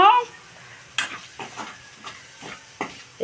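Egg noodles are stir-fried in a pan with egg and ginger paste for a street-style dish: a spatula scrapes and tosses in a rhythm of distinct clinks and scrapes, each over a steady sizzle, close up and with no talking.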